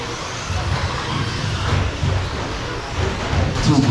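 Short course race trucks run nose to tail through a sequence of corners, their engines rumbling low and steady with revving surges and a hiss near the end.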